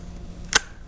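A 20 gauge shotgun with crisp bluing snaps its ejectors once: a single sharp, close metallic click in a quiet room.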